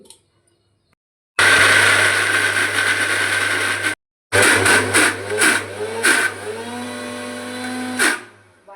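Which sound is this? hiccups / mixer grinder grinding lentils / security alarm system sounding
mixer grinder grinding lentils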